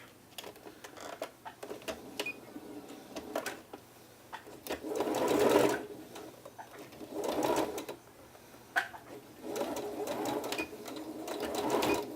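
Sewing machine stitching closed the gap in a puff-sleeve casing with elastic inside, on a blouse sleeve; bursts of rapid mechanical whirring start and stop several times, fairly close, with quiet pauses between runs and no talk.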